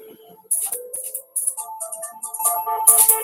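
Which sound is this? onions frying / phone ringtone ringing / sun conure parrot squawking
phone ringtone ringing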